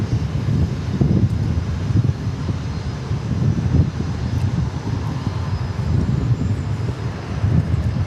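A Southwest airplane flying near Dallas Love Field makes a loud, sustained engine roar with gusty wind buffeting the microphone, rumbling steadily throughout.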